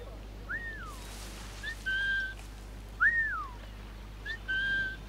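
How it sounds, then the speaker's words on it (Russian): Whistling by a character in Assassin's Creed 4 Black Flag, two short phrases each made of a rising-falling swoop and then a held steady note, fairly close and clear over a low background hum. "что он не слышит то, что я свистел"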